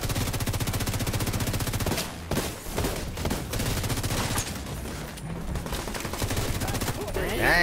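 Sustained automatic gunfire from a firefight in Tom Clancy's The Division 2, rapid loud bursts with brief pauses and a heavier burst near the middle, over a dense battle backdrop.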